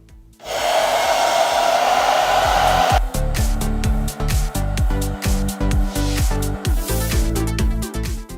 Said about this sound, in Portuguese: Agora eu vou utilizar o mesmo secador de cabelos, sem o resistor ligado, apenas para soprar e resfriar a caixa de conexão da nossa luminária